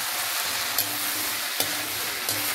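Soya chunks and tomatoes sautéing in a pan, giving a loud steady sizzle broken by three brief scraping stirs at regular intervals.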